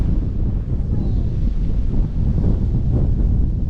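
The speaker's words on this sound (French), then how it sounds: "Et donc il y a beaucoup de vent aussi." Strong wind blowing outdoors on an overcast, threatening day, a steady loud rumble buffeting the microphone throughout with no pauses.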